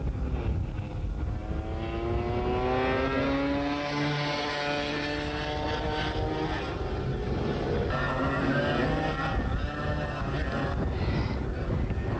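Several Yamaha-class go-kart engines race around a track, overlapping whining tones rising and falling in pitch as karts pass, continuous and fairly loud.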